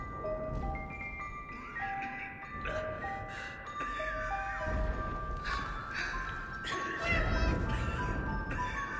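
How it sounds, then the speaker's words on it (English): Meowing from a cat in the 11-11 Memories Retold game rises in repeated tonal cries over a dim rumble of background noise. "Ist das eine Katze?"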